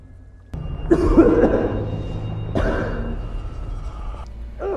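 A person coughs in two separate bursts, close and fairly loud, with a brief pause between them and no speech.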